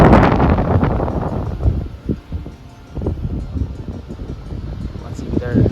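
Gusty wind buffets the microphone outdoors with a low rumble, while people talk nearby over it.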